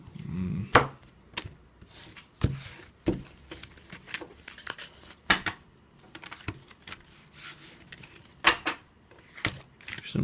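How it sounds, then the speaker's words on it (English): A deck of playing cards is shuffled thoroughly for a Twilight Struggle board game, giving quiet, irregular riffles and snaps at close range with soft talk underneath. "Some super good, super thorough shuffling."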